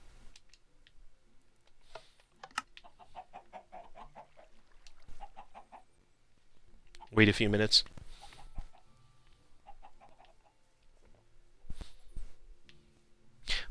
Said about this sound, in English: Sorry, chickens.